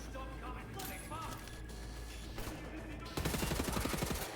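Gunfire in the World War II shooter Wolfenstein: The New Order, a busy layered mix of shots under game noise that turns into a louder, rapid burst of automatic fire near the end.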